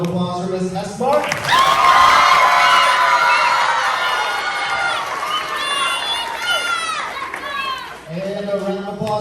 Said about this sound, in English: A round of applause for Miss Esmart.